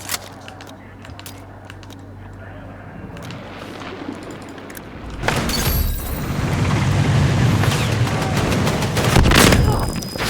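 Shotgun fire in Battlefield 6, several heavy booming blasts in the second half with a crackling, chaotic battlefield ambience, and someone talking over it.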